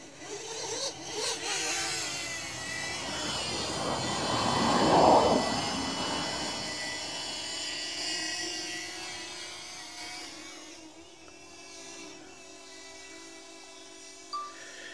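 A mini drone flies around a house with a steady buzzing whine that swells toward the middle and then eases off as it moves away. No one speaks.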